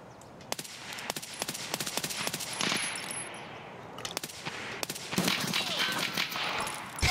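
Rapid gunfire in the Escape from Tarkov video game, a dense string of sharp, close shots in quick bursts with short pauses, continuing through the whole stretch over a noisy background.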